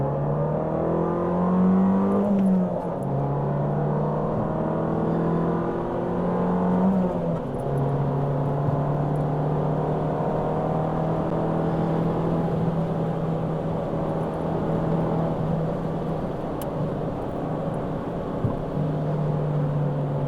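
An Abarth 595 hatchback in sport mode accelerating hard, its engine note climbing steadily through the revs with a brief dip at a gear change, a continuous loud drone heard from inside the car with no talking.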